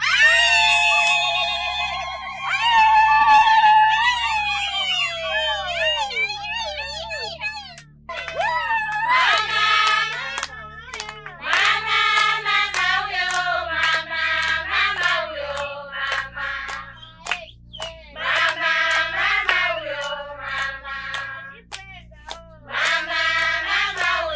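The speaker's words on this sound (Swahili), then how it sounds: "Nilikuwa naomba vigelegele tafadhali" High, warbling women's ululation rises in long trilling bursts at a family celebration, several voices overlapping loudly in waves, with pauses between rounds and a steady low rhythmic music bed beneath.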